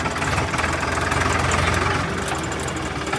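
A tractor engine idles nearby with a loud, steady low chugging knock and rattling vibration that holds constant before easing slightly toward the end.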